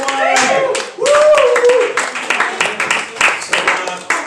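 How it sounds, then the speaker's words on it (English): Audience clapping breaks out after a comedian's set in a tavern, loud and sustained with a few cheers. A voice speaks over the start, and then the applause fades into uneven claps. "applause for AC Cowie, everyone."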